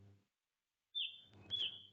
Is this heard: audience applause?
no